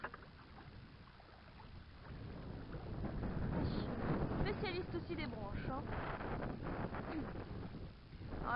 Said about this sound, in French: vous risquez de pas trop m'entendre avec le vent.